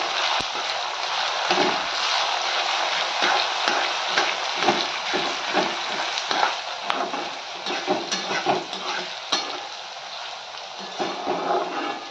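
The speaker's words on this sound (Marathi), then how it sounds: "शेंगदाणे कसे फुटायला लागले।" Peanuts crackling as they fry in a pan with garlic and coriander paste, a steady close sizzle broken by irregular small pops and stirring sounds for several seconds, no voices.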